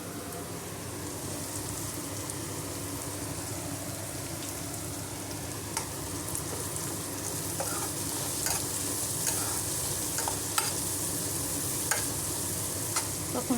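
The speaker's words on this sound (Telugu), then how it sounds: "గోల్డెన్ బ్రౌన్ వచ్చే వరకు ఫ్రై చేసుకుందాం ఆనియన్." Onion fries with turmeric in a pan for boiled egg curry, a steady close sizzle with occasional stirring scrapes and clicks, no voices over it.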